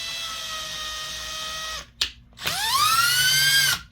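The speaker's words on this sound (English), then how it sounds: "we'll take the tap, we'll load it into the drill motor" A drill motor whines at steady speed, stops briefly with a click, then spins up again, its pitch rising as it runs while tapping threaded holes for set screws in a gear of an Antikythera mechanism kit.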